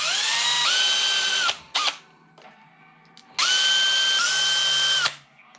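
A power drill whirs in two long bursts, revving up and spinning down, with a brief short trigger pull between them, while working on a Traxxas Mini Maxx RC truck.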